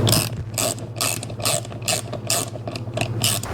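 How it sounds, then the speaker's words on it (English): A ratchet wrench tightening nuts on a TV wall mount, rapid rhythmic clicking in repeated bursts, close and clear with no talk. "I'll put a link down in the description also for this ratchet set"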